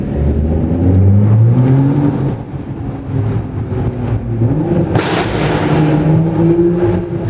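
A tuned car's engine revs hard on an aggressive map, with rising and falling engine tones, a sharp burst of exhaust crackle near the middle and steady loud droning throughout.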